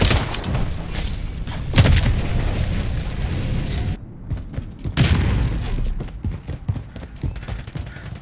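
A grenade blast in the video game Call of Duty 3 during a hardcore team deathmatch booms among bursts of gunfire, with two heavy low thumps standing out over the crackle of shooting.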